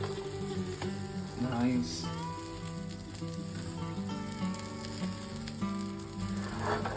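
A cheesy omelette sizzles and fries in a kadai, a steady crackling hiss that runs throughout with tonal scraping and clinking on top. A voice briefly speaks over it.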